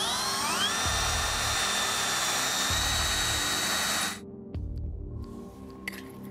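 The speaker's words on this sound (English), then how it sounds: "I've got to drill these holes all the way around this ring" A power drill whines steadily at high pitch, bit grinding into a metal fire pit ring with periodic low thumps, then cuts off, leaving quieter mechanical rattling.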